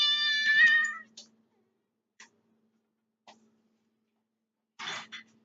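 A cat in a kitchen gives one clear, drawn-out meow close by, followed by a few faint ticks and a short, rough vocal burst near the end.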